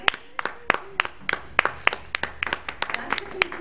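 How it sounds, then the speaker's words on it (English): A small audience claps after a kids' drama camp performance, roughly a dozen sharp separate claps in a loose, uneven rhythm, close by, with faint voices underneath. "We clap again. Clap for each other."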